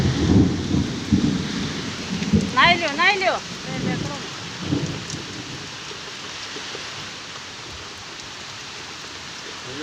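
Rain arriving with strong wind in Dahisara, a steady wash of rain and gusting noise with rumbling bursts early on, while people talk nearby.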